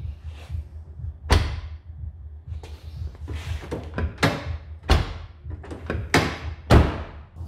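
A Mazda MX5 track car's driver's door shuts with a series of sharp thuds and slams, about five distinct bangs spread over several seconds against a quiet background.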